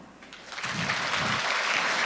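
An audience at a Korean marketing conference talk breaks into applause, starting soft and quickly swelling into a loud, sustained wash of clapping from a full room.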